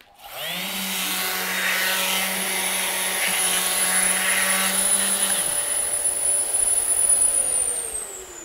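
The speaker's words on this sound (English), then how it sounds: "And so now I can work with a small compact sander, but I can still have excellent dust extraction with the long life bag." A Festool compact sander with a long-life dust extraction bag starts up with a rising high whine, holds a steady loud hum, then spins down as the tone falls away.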